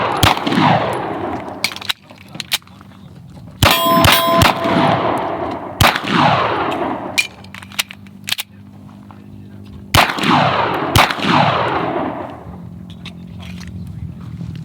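Gunshots hitting steel targets at a shooting range, loud reports followed by ringing metallic clangs in spaced groups, with people talking between strings of fire.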